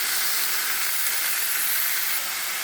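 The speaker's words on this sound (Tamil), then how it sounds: "ஸ்டவ்வை மீடியமுக்கும் கொஞ்சம் குறைவான தீயில் வச்சு இந்த மாதிரி எண்ணெயிலேயே ஒரு 2 நிமிஷத்துக்கு வதக்கலாம்." Chicken sautés in oil on a stove over medium-low heat, giving a steady, dense sizzle and hiss that carries on unbroken and close, with no talking.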